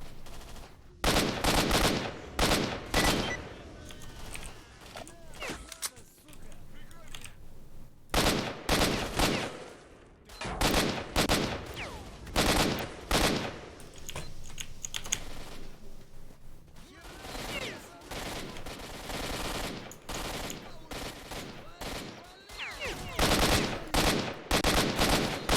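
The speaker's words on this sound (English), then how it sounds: "but suddenly everyone's just shooting" Gunfire shootout in STALKER: Shadow of Chernobyl, with loud bursts of rifle and machine-gun fire in clusters separated by short lulls, sustained near and intense across the exchange.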